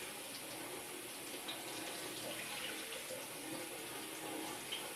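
Faint, steady stream of tap water running over raisins being rinsed for fruit cake, a soft continuous splash with small irregular drips and no talking.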